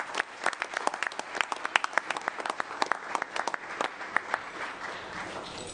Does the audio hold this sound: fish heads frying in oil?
no